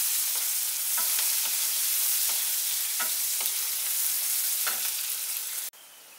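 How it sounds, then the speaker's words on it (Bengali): Chopped onion frying in hot oil with tempered spices, a steady close sizzle broken by occasional stirring scrapes, cutting off abruptly near the end. "পেঁয়াজটাকে একটু হালকা ব্রাউন করে ফ্রাই করে নিচ্ছি।"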